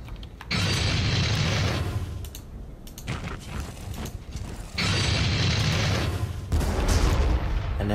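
Rumbling explosions and heavy mechanical clanking from the strategy game Armageddon: Da Orks come in sustained loud bursts, with a booming low end and brief lulls between them.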